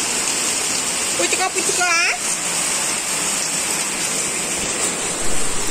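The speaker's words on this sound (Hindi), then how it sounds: "बहुत बारिश हो रही है" Heavy rain pours in a constant, dense hiss throughout, with a voice briefly chanting playful syllables over the downpour near the start.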